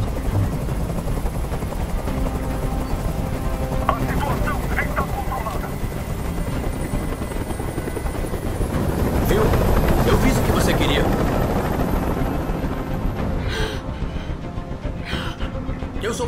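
A helicopter hovers overhead in the video game Detroit: Become Human, a steady loud rotor drone throughout that swells mid-clip, with scattered game voices and effects over it.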